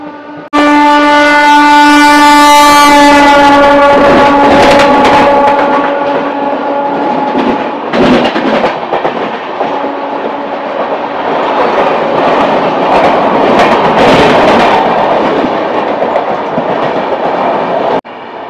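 A Howrah–Digha local train on a foggy morning: a long horn blast opens, then loud continuous rumbling and clattering of wheels on rails, close and steady throughout.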